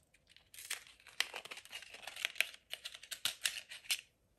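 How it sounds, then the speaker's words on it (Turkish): An eyebrow pencil is pulled from its cardboard box during a holiday makeup-bag packing, giving a run of crisp crinkling, tearing and tapping handling noises, close and fairly quiet, with no talking. "Bu arada bunu açalım. Kutusundan hemen çıkaralım."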